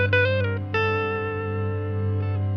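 Electric guitar played through a Hotone Verbera pedal with the reverb mix at zero, a few sustained, slightly distorted notes ringing dry and clean with no reverb tail.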